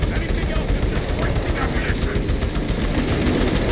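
Dense, continuous rapid gunfire in the Space Marine 2 video game during co-op campaign combat, a loud, relentless mechanical roar with a shouting voice over it.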